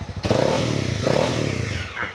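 A 2020 Honda CB300R ABS motorcycle with stock exhaust idles close by, then gets two brief, light blips of about 5% throttle that raise the revs a little before settling back.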